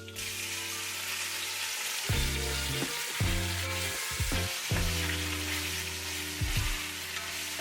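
Beef for a daube searing in a pot, a loud continuous close sizzle with crackling bursts and occasional clinks and stirring, no talking.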